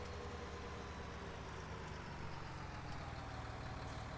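A New Holland T7 tractor engine in Farming Simulator 19 drones quietly and evenly in a low, steady hum, with no voices over it.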